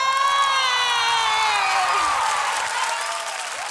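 An audience at a televised talent show audition applauds and cheers loudly and steadily, a bright sustained tonal sound gliding downward over the crowd noise, fading slightly toward the end.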